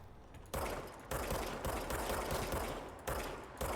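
Dense bursts of automatic gunfire in the video game Control, loud rapid volleys broken by short pauses, with no talk over them.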